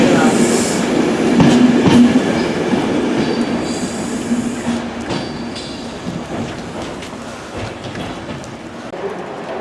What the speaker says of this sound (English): Here comes the first member of the favourite to come in the new Transport for Wales livery, 158839.